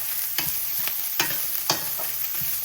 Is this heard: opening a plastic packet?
no